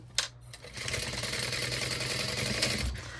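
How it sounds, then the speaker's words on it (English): A sewing machine stitches along the edge of a fabric crossbody bag, with a click at the start, then a steady, fairly close mechanical whir that runs on to the end. "I'm just gonna sew the edge like this."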